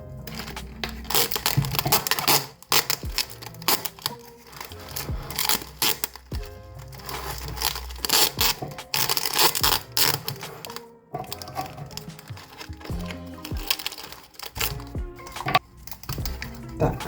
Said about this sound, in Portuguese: vou pôr a durex pra segurar. Vai passar a durex todo ao redor